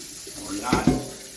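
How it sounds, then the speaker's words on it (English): Cold tap water runs into a kitchen sink as boiled potatoes are drained into a colander, a brief steady hiss and splash with a short voice-like murmur in the middle. "We're gonna turn on some cold water to help keep the shock from the hot water from hurting your plumbing too bad."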